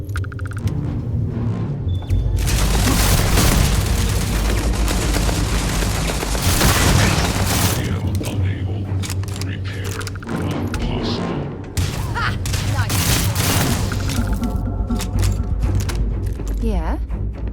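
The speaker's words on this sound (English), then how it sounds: "I am opening fire." Sci-fi gunfire in a Starfield firefight: loud, dense bursts of shots and booming impacts run nearly the whole way, with game music and effects layered underneath and a brief dip near the middle.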